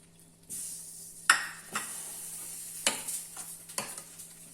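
Green tomato dal being mixed with coriander in a pot: repeated spoon scrapes and clinks against the metal over a gentle steady simmer, close and clear, with no voices.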